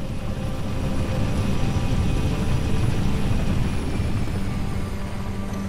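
Aircraft engine roar from a landing dropship in Halo: Reach, a loud steady rumble with propeller-like thrum, close and continuous with no talk, easing slightly toward the end.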